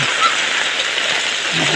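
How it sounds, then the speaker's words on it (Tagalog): Heavy rain pouring down during typhoon Maymay, a dense, loud, steady hiss of downpour close by with no break and no voices. "Kaya ito dahil sa bagyong Maymay, kaya biglang buhos ang ulan."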